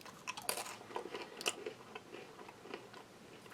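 Crisp plain wheat cracker from a Russian army ration pack being bitten and chewed close up, a sharp initial crunch followed by a run of irregular brittle crackles that fade into softer chewing.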